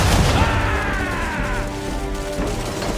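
Naval cannons in Assassin's Creed III blast at powder barrels, opening with a heavy booming crash that rolls into a long rumbling roar, loud and dense, with no voices.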